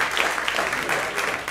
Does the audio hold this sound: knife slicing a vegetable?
no